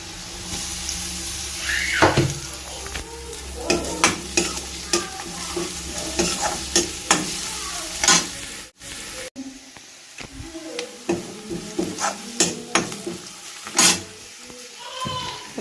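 Ginger, garlic and chili sizzle in oil in a home kitchen pan while a spoon stirs and scrapes them. The frying hiss is steady, with frequent clinks and scrapes of the spoon, and no one speaks.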